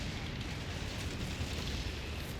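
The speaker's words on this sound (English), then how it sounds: "Good explosion" A battlefield explosion in Company of Heroes 3 near an artillery gun, a sustained, dense boom and rumble that stays loud and roiling throughout, with no voices.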